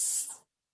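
A smoke detector tester aerosol sprays in one short, steady hissing burst lasting under half a second, then cuts off into silence.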